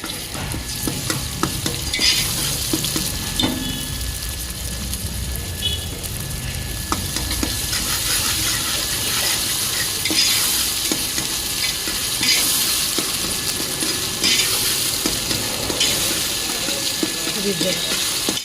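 Ginger garlic paste fries in a pan for a Telangana-style tripe curry, a steady sizzle broken by frequent scraping stirs of a spoon against the metal, close up, with occasional voices in the background.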